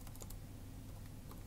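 Light keystrokes tap out a command on a computer keyboard in a campus computer lab, faint and quick over a steady background hum, with no voices.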